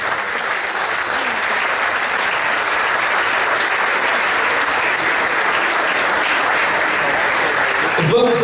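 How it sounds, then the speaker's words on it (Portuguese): Applause from a crowd at a Portuguese Socialist Party presentation of local election candidates, steady clapping filling the hall throughout with a brief louder flourish at the end. "Uma salva de palmas para esta equipa candidata à Junta de Freguesia de São João Batista."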